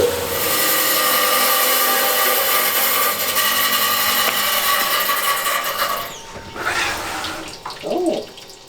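A rock saw cuts through a Moroccan Al Hama agate with a loud, continuous grinding whine for about six seconds, then winds down into quieter scraping and rubbing sounds.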